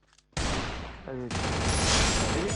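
Loud Desert Eagle pistol gunfire in a shooter video game, a sudden burst of rapid, heavy shots that continues and swells into dense overlapping fire with a brief metallic ringing tone in the middle, no talk.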